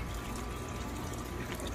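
Water runs steadily into a newly built garden pond, a continuous broadband splashing and gushing that stays even and fairly close throughout, with no voices.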